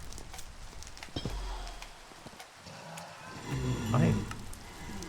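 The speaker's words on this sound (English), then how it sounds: "A zombie horse." A zombie horse in Minecraft makes soft hoof clops and low snorting and neighing noises, mixed with other quiet game sounds, rising to a louder groan near the end.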